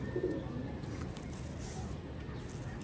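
A soft, low pigeon coo sounds near the start, then fades into a steady background hum.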